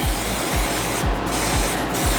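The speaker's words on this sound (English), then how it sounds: "So we're just gonna shake this up a little bit, spray it" Suede conditioner sprayed onto a pair of Brick By Brick Jordan 4 sneakers, a steady hissing mist running throughout with a few soft rhythmic low thumps underneath, close and moderately loud.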